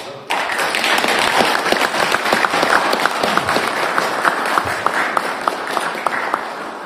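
Audience at an award ceremony breaks into applause, steady dense clapping that starts abruptly and carries on loudly and evenly throughout.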